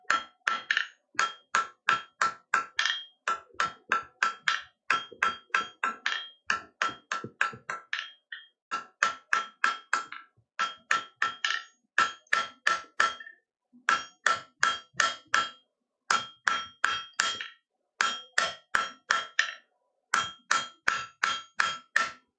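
Steady hammer blows strike in quick bursts of several hits, pausing briefly between groups, loud and close with no talk over them.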